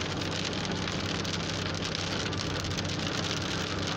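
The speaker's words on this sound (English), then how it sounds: "It's starting to rain here, Pete." Steady, dense rain hisses and patters without a break while driving a rural road near DeKalb Junction, New York, loud and close with a low rumble underneath and no voices.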